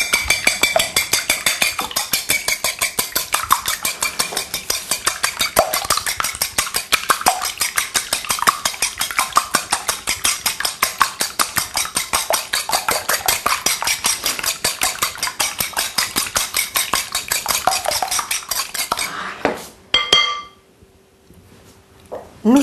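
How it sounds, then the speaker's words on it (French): Eggs beaten briskly in a bowl for an egg and cream filling for a spinach tart, a fast, steady rapid clatter of utensil against bowl that continues for about twenty seconds, then stops abruptly with a brief quiet tail. "Voilà, vous battez vos œufs."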